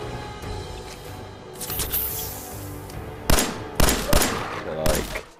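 Gunfire in the video game Fallout 4, several sharp bursts of shots from a distance cracking out over a busy background, growing denser toward the end.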